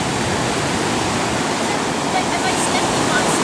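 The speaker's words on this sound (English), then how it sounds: "Deeper into the ocean." Ocean waves and surf make a constant, loud broadband wash of water with no breaks, heard close up and alone.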